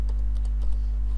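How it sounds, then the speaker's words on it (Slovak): Keys on a computer keyboard tap softly in a short burst of a few quick clicks over a steady low electrical hum. "Tak kliknem, napíšem si tam svoje meno a priezvisko."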